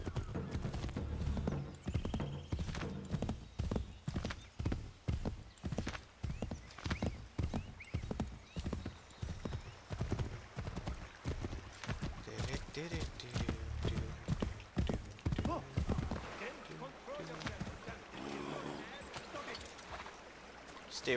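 Horse hooves clip-clop in a fast steady gallop in Assassin's Creed 3, loud and rhythmic before slowing toward the end, with someone talking over them throughout.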